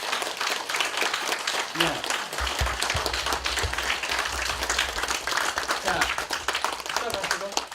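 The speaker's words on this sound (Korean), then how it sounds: "10초만 박수 한번 쳐보세요." Audience at a Korean cultural-travel talk claps hands together for about ten seconds, a dense steady patter of applause with a few brief spoken words over it.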